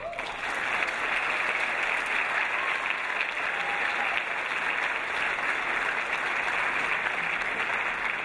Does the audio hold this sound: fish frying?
no